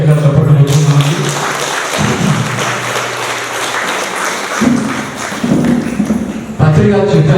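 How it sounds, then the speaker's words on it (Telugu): A crowd claps loudly at a World Meditation Day celebration at a pyramid in Kadapa, with a continuous wash of applause running under a loud amplified voice that speaks throughout. "గట్టిగా చప్పట్లు కొట్టుకుంటున్నాము"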